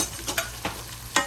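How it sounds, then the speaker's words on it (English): Four fresh garlic cloves drop into a hot pan, a soft continuous sizzle broken by a few short crackling spits, close and moderate, no talking. "here goes some garlic I'm dropping in"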